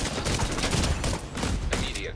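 Rapid, dense rifle gunfire in the shooter game The Division 2, loud bursts of shots crackling continuously and close, with speech faintly mixed in.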